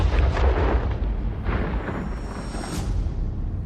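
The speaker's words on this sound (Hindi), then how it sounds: "और तभी एक तेज धमाका हुआ" A loud explosion effect for a Hindi audio drama: a dense, roaring blast that rumbles continuously with heavy low-end boom and no voices over it.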